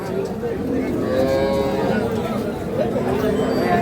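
A cow lows at a busy cattle market, a long drawn-out call that stays up close against a constant murmur of crowd chatter and nearby voices.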